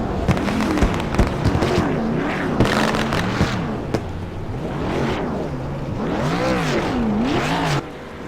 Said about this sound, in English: Fireworks shot off indeed, ladies and gentlemen.